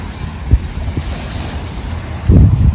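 Ocean waves wash in at a beach under strong wind buffeting the microphone, a steady roar with a few low thumps and a louder surge near the end.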